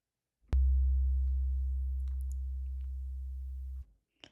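An 808 bass made from a Polytone sine wave oscillator hits once with a sharp click, then holds a deep, pure sub tone for about three seconds, fading slowly before cutting off.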